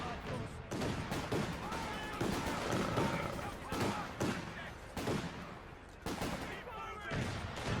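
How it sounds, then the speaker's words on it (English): Repeated booming artillery barrages and scattered gunfire from the video game Company of Heroes 2 rumble through a busy battle, with distant blasts landing every second or so under someone talking. "Getting some artillery barrages going."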